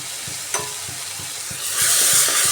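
Onion, ginger, garlic and tomato paste with salt are stir-fried in a pan, a regular rhythm of spoon scrapes and taps over a sizzle that grows louder and brighter toward the end, with no one speaking.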